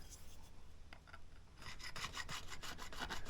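A Chinese-made diamond fret crowning tool files a guitar fret, starting with faint scraping and then a run of quick, rhythmic rasping strokes that grow louder and closer, with no voices.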